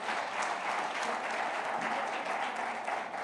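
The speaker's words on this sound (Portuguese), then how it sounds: "Você pode aplaudir ao Senhor por essa palavra" A church congregation claps steadily through a celebration worship service, a dense, even wash of many hands at fairly close range with no break.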